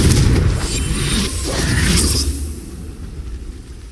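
A Confringo blasting curse in Hogwarts Legacy erupts in a single loud, close, booming burst that rumbles and fades over a few seconds.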